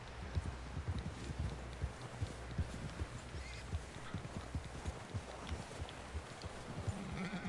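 A horse in Red Dead Redemption 2 clip-clops at a walk, hooves landing in a steady rhythm at low, moderate loudness, with a faint snort or whinny and no talk.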